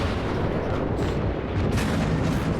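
Warship guns fire armor-piercing rounds in the World of Warships video game. The heavy artillery blasts run as dense, continuous booming rumble that stays loud and close for the whole moment, with no talking.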